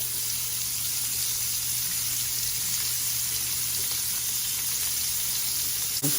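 Shrimp sizzle steadily in olive oil on a hot grill, a constant, even hiss with a low hum underneath and a faint clink near the end.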